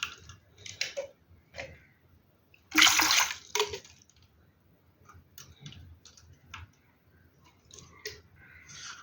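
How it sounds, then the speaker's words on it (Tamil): Water poured into a bottle for an air-pressure experiment meant to draw an egg or water balloon inside: uneven splashing gurgles come in short bursts, with one louder gush near the middle, close by and with no talking. "இப்போ மறுபடியும் தண்ணியை எடுத்துட்டேன் எடுத்து ஊற்றுவோம்"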